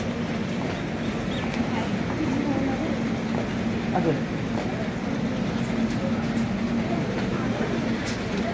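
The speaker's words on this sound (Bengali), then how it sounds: "এখন আমরা রোড স্টেশনে" A train at Jalpaiguri railway station, heard as a steady rumbling platform din with low mechanical hum and a few clanks, the ambience continuous and moderately loud throughout.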